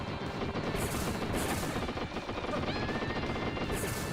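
Constant rapid gunfire and explosions from the arcade shooter Wild Guns Reloaded, set in an underground ship level, keep up a dense, loud, unbroken game barrage throughout, with no voices over it.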